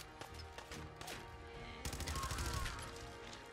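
Gunfire in the post-apocalyptic game Fallout 4: scattered sharp shots, then a denser burst of rapid rounds and impacts in the second half, moderately loud.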